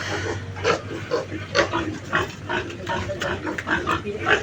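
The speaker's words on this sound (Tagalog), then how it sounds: "Ayan po yung aking mga baboy." Newly bought piglets grunt and oink in a pen, short repeated squeals and snorts overlapping at close range, a busy ongoing chorus with a faint low hum underneath.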